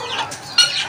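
Silver and golden Sebright bantam chickens give a brief, soft cluck or two, close by and without talk.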